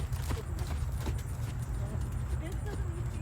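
A horse's hooves clip-clop steadily on firm ground as it is walked and trotted in hand, with a person talking over the footfalls.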